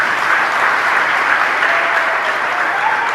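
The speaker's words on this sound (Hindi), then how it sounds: "बजाओ अपने भाग्य के लिए ताली" Steady, dense audience applause at a religious discourse gathering, continuous clapping from a large crowd at an even, loud level throughout.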